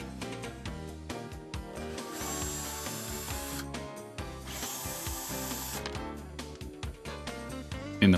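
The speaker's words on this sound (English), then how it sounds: "Remove these last 2 screws at the side of the center console." Screws come out of the side of a Mercedes W164 center console, giving quick ratcheting clicks and small plastic rubbing sounds close by, in bursts with short gaps.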